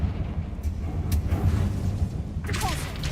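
Confringo fire curse blast in a Harry Potter video game, heard as a short sharp burst near the end over a steady low game rumble and a few scattered thuds.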